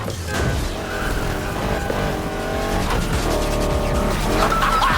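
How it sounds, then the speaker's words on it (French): A car drifts through a corner in the Need for Speed Heat racing game, its engine roaring loudly while the tires squeal in long wavering screeches, close and continuous. "si tu veux drifter, écrase la pédale des gaz au prochain virage"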